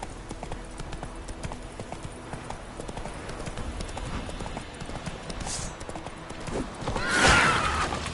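Roach the horse in The Witcher game, hooves clip-clopping in a steady rapid gallop with a loud whinny near the end.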